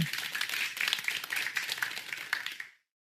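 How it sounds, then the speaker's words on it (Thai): Everyone in an audience claps loudly, a dense, sustained burst of applause that carries on strongly for close to three seconds and then stops abruptly. "ทุกคนปรบมือกึกก้องยาวนาน"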